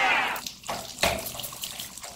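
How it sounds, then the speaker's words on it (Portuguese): Tap water runs into a sink for rinsing after brushing teeth, in short splashing bursts that start and stop a few times, close and clear with no talking. "Pronto, agora é só enxaguar!"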